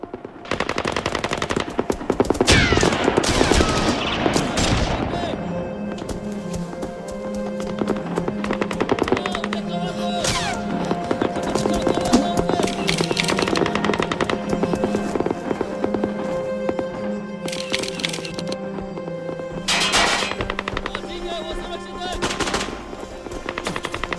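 Rapid bursts of automatic gunfire crackle loudly and almost continuously, with dense volleys and scattered single shots, while a voice speaks briefly under the shooting.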